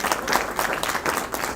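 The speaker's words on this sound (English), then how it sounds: "I think they need another round of loud applause." An audience at a Sathya Sai Baba 100th birthday celebration applauds loudly, dense continuous clapping from many hands filling the hall with slight swells and no talking over it.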